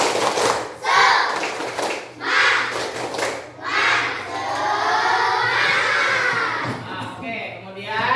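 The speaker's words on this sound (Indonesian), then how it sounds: "Tepuk semangat" A group of children in a classroom claps in a rhythmic pattern, mixed with shouting and chanting voices, loud and lively throughout.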